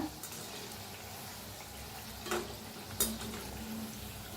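Bhaji fries in hot oil with a soft, steady sizzle and bubbling, broken by a couple of brief clinks. No voices are heard.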